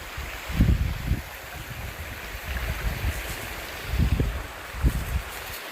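Strong wind gusting outdoors at a Sundanese nasi liwet meal, with low rumbling bursts that rise and fall in waves, loud near the start and again toward the end, steady rushing noise between.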